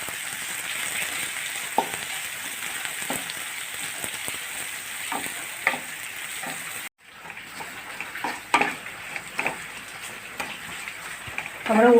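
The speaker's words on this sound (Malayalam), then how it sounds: "പിന്നെ കുറച്ച് ചുവന്നുള്ളി അരിഞ്ഞ് വെച്ചത് ഇട്ട് കൊടുത്തിട്ടുണ്ട്. നന്നായി മൂത്ത് വരണം." Chopped shallots and curry leaves frying in a pan for chicken kappa biryani, a steady close sizzle with scattered pops and stirring clatters, briefly cut off midway, with no speech.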